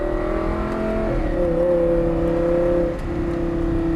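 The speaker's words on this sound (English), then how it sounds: "Straighten her up, and as we straighten up, Ben, then we can start to apply the accelerator again" A Lamborghini Gallardo supercar accelerating hard after an upshift, its engine note climbing steadily and loud and close, dipping briefly near the end as the next gear engages before pulling again.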